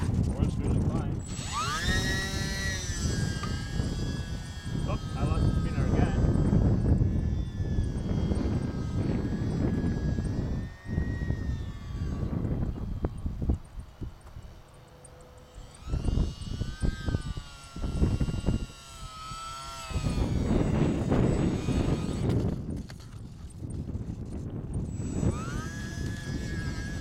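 An E-flite UMX Pitts S-1 radio-controlled model biplane flies in windy conditions, its small electric motor whining and changing pitch as it passes, with wind buffeting the microphone and a short quieter lull midway.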